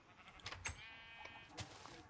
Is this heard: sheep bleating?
yes